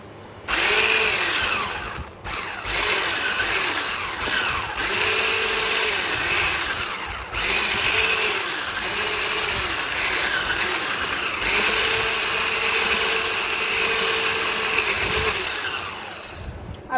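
Electric mixer whirring steadily through vanilla cream cake batter made with milk and vanilla essence, a continuous loud motor drone with brief pauses and pitch dips as it works the mix.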